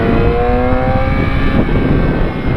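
A motorcycle engine runs loud and close, a steady rough rumble with a slight rise in pitch, no pauses.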